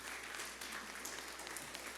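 A church congregation claps in congratulation during a Sunday service, a brief round of steady applause heard at a moderate distance with no voices over it.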